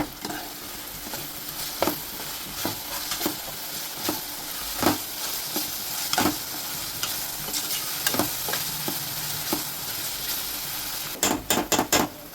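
Ginger, garlic, cumin and coriander paste frying in a pan for a prawn and gongura curry, a steady sizzle under repeated spatula scrapes, with a quick cluster of clatters at the end.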